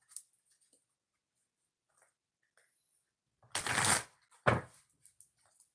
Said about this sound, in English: I'm going to do one more shuffle